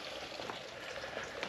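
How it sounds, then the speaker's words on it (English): Fresh spring water flowing out from under a rock along a trail, a steady close trickling and bubbling wash that stays even and unbroken for the whole short stretch. "water comes right out of there, fresh water from under that rock"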